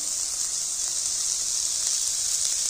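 Sabudana khichdi fries in a pan with a loud, even, continuous sizzle close by, a dense hiss with no breaks and no talking over it.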